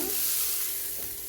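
Garlic fries in a pan, giving a soft, close sizzle with light crackling and a brief stirring scrape, steady and fairly quiet, with no voices.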